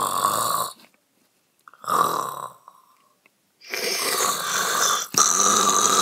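Loud, close snoring from a sleeping castaway comes in separate rough, rasping bursts with near-silent pauses between them, one of the later bursts long and drawn out.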